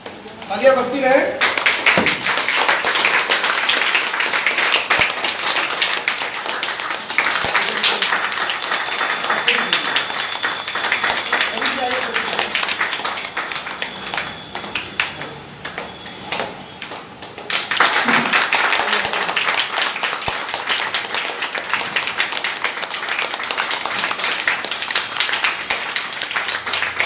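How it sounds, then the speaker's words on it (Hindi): Continued audience clapping at a company training meeting, a steady wash of many hands that dips briefly mid-way then swells again, with voices murmuring underneath. "तालियां बजती रहे।"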